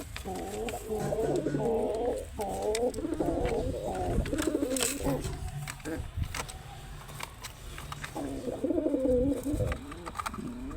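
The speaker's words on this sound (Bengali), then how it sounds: "বুলিটা খুব সুন্দর বুলি" Pigeons cooing in a loft, a pair preparing to nest, with repeated rolling coos in bursts through most of the clip, pausing briefly in the middle before resuming loudly near the end over a low background hum.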